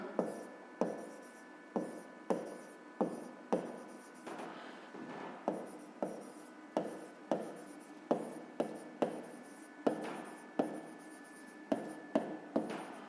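A pen scratches across paper while a rectangle's sides are written out for a fifth-grade math exercise, short quiet strokes repeating in an irregular rhythm, close and clear with no talk.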